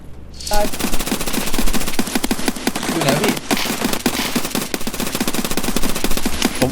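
Rapid automatic gunfire in the shooter game Escape From Tarkov, loud dense bursts of shots rattling almost without pause, with players talking over the shooting.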